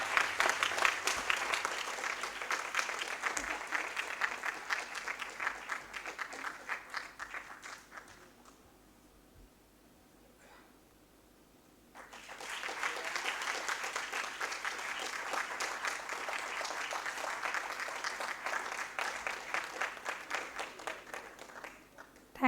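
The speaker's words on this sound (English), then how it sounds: "Can we have a huge round of applause for her?" Audience at a school debate competition claps for a student called to the stage, sustained rapid applause that dies away to near silence midway, then swells back to a full round for the rest.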